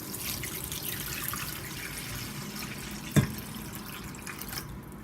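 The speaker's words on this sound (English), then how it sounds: "So I'm all ready here to add my water" Tap water runs steadily into a pot being readied for boiling kombucha, a soft continuous hiss with one brief clunk partway through.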